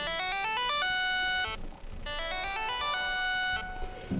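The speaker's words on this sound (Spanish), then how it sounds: "Si le quitamos el reverb suena así." A bright electronic melody plays in short stepping phrases, dry and clipped with no lingering echo, breaking off briefly before the pattern repeats.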